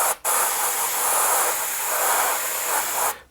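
Airbrush spraying paint onto a driver's helmet, a steady broadband hiss of air that starts abruptly, holds at a constant level for about three seconds and then cuts off, close by with no voices.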